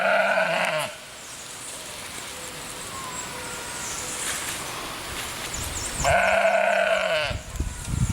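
Sheep bleating outdoors on a bright day, two loud, wavering calls at the start and near the end over a steady rustling background, with faint quieter bleats in between.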